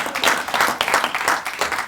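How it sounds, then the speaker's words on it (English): Audience applause fills a hall at a professorial inauguration, a steady, dense wash of many hands clapping that holds for about two seconds without a break. "I think that deserves a round of applause."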